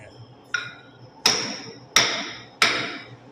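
A hammer whose broken handle is being replaced strikes wood or metal four times at a slow, even pace, each blow a sharp, close knock with a short ringing decay.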